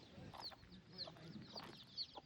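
Village hens and small chicks cluck and peep softly in short repeated calls, fairly quiet and close, with a faint murmur of background activity.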